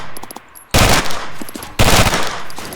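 Automatic rifle fire in the ArmA 3 video game: two loud sustained bursts of rapid shots, each lasting about a second, close and dominant after a brief quieter moment.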